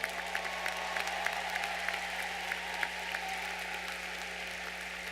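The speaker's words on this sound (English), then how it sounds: "How about a round of applause for them?" A large commencement audience applauds graduates' families and friends, a faint, distant wash of many hands with a steady low hum beneath and occasional sharper claps standing out.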